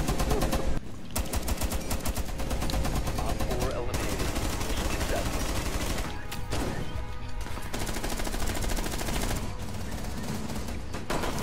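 Sustained automatic turret gunfire in the Rainbow Six Siege video game, dense rapid bursts running nearly the whole time with brief gaps, loud and close.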